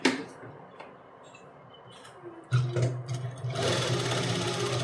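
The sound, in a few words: sewing machine stitching a round neck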